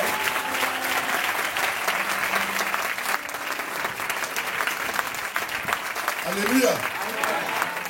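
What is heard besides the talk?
church congregation applauding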